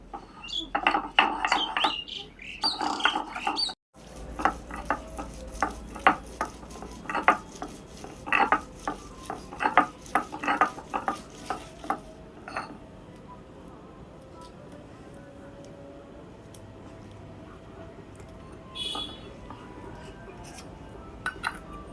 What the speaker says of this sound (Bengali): একে একে করে বন্ধুরা আমি সম্পূর্ণ মশলা বেটে নেব শিলপাটায়।